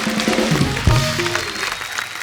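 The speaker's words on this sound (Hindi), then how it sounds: "ठोको ताली।" Applause and clapping on an Indian talk show about Bollywood songwriting, a brief, close burst of scattered hand claps with crowd noise that lasts about two seconds.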